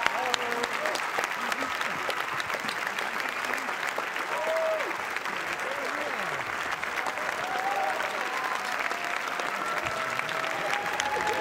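Massive sustained applause and crowd noise inside a Cannes film festival theater as filmmakers arrive, a dense continuous roar of clapping with voices shouting and talking within it throughout.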